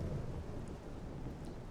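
Steady heavy rain with a low rolling rumble of thunder in the video game Morrowind, a dense, continuous wash of sound with no voices.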